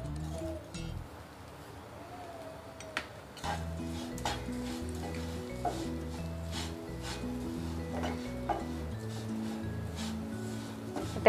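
Sugar stirred into a pan of coarsely ground cashews, almonds and coconut for coconut barfi, with steady scraping and soft clinks of a spoon against metal over a low sizzle, close by, after a quieter opening.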